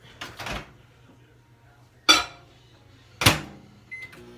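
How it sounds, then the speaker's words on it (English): A kitchen microwave oven handled during home cooking: a few sharp door clunks and knocks spaced a second or more apart, then a short high electronic beep near the end, close and fairly quiet, with no talking. "let me just put these back in the microwave"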